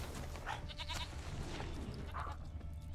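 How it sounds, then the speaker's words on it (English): A goat bleats twice in The Witcher 3: Wild Hunt, short nasal cries standing out over a dense, steady game soundscape of ambient noise, with no speech. "I hear the goat."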